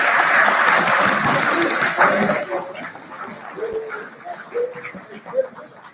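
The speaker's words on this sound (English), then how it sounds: "Give me a round of applause." Audience applause at the EVOLUTION FILTACON 2019 awards ceremony: a dense burst of clapping fills the first two seconds, then thins and fades into scattered claps and faint room murmur.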